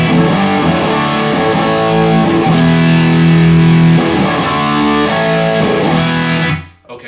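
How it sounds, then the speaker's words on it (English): An electric guitar played through a Friedman amplifier with distortion rings out as a loud, sustained, thick chord that holds for about six seconds and then cuts off abruptly. "now if I run my Friedman"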